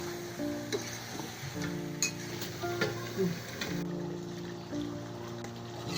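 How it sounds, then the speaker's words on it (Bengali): Beef sizzles in a hot pan while being stirred, giving a steady low frying hiss broken by soft scraping and clinking of the utensil against the pan, with no talking. "এখন ভালোভাবে নাড়াচাড়া দিয়ে নিব"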